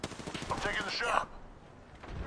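Gunfire in the Apex Legends video game: a short burst of rapid shots with ringing metallic tails, loud and close, then a quieter thud as it fades.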